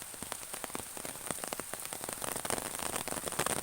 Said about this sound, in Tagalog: Ayan, umuulan na.